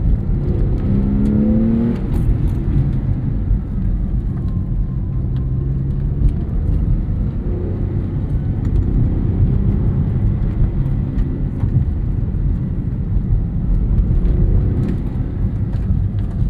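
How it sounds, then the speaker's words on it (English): A Porsche 996 911 flat-six engine drones and whirs steadily for a long stretch, loud and close, with occasional swells in pitch as it revs. "but Porsche flat sixes never sound bad"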